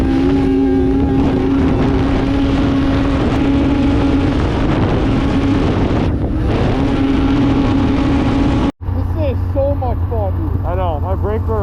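An Arctic Cat Catalyst snowmobile runs along a trail at night, its engine a loud continuous drone with shifting pitch and wind buffeting, cut briefly near the end before the motor resumes at a lower, steadier note.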